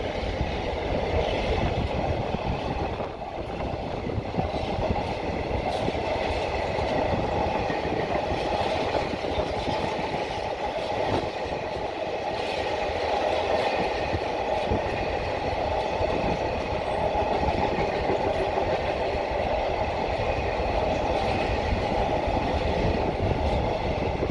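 A container freight train bound from East Midlands Gateway to Felixstowe North rumbles past in Suffolk, a continuous loud roar with wheel clatter and engine drone, close and unbroken throughout.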